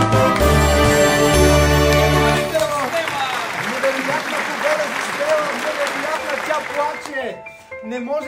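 A studio audience on a television show breaks into sustained clapping and cheering right after a brief musical sting, while a voice talks over the applause.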